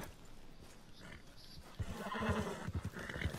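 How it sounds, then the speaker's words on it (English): In Red Dead Redemption 2, a horse whinnies and snorts fairly faintly, with scattered hoof thuds and shuffling that grow louder in the second half. "My horse was walking on air and then fell."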